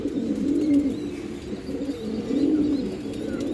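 Caged pigeons at a market stall coo in low, throaty rolling calls, repeating in overlapping phrases nearby while faint chirps sit in the background.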